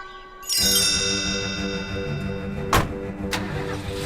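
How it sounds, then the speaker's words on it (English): A truck engine cranks and catches with a sudden rise in noise, then runs with a steady tonal hum and a couple of sharp clunks or bumps as it pulls away. "jumped in her family's blueberry truck and drove back to the city"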